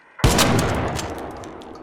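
A single close, loud shotgun blast from the Il Toro in Arc Raiders, a sharp crack followed by a long ringing decay that fades over more than a second.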